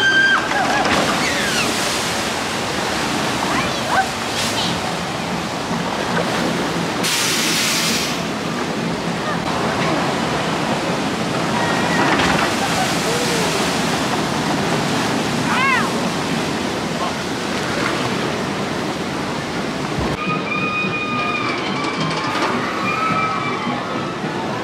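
Water rushes and splashes steadily on the Flume 1 log flume ride, a continuous surf-like wash with sloshing bursts, heard up close amid faint background voices.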